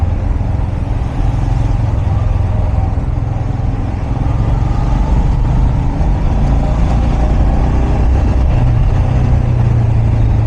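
Heavy city road traffic at Hi-Tech City, Hyderabad, produces a loud, continuous roar of engines and tyres, with passing cars, trucks and motorcycles blending into a dense, unbroken wash.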